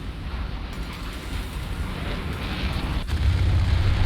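A missile hitting its target in the War Thunder video game, a loud, rumbling, wind-like roar that swells steadily with a sharp crack partway through, with no talking.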